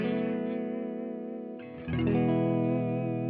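A Reverend Reeves Gabrels signature electric guitar on its clean setting rings a sustained chord, then a second strum comes in with a slightly wavering, effect-tinged shimmer, close and alone with no talking.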